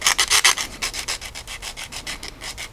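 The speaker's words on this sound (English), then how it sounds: "take a little bit of a sanding pad or something like that" A sanding pad rubbing the edge of a plastic glass piece for a NASCAR Grand Am scale model, with quick rhythmic back-and-forth strokes, about fourteen close scratchy passes that start stronger and settle into an even, softer pace.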